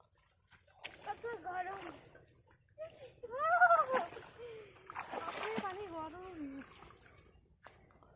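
Water splashes in a pond as dirty dishes are rinsed, with uneven sloshing bursts heard close by under voices talking throughout.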